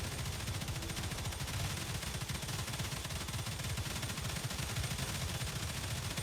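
Automated gun turret in the StarRupture video game firing at vermin, a dense, unbroken rattle of rapid shots at steady volume for several seconds, loud and without talk.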